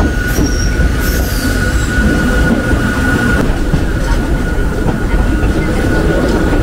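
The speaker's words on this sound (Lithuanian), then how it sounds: "Vykom pagaliau va su šitu va tokiu mielu senoviniu traukinuku." An old-fashioned scenic train runs through Hakone, Japan, its wheels squealing loudly over a constant rumbling, rattling ride. The noise is close and unbroken, heard from on board, with no talk.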